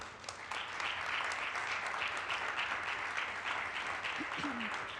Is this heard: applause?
yes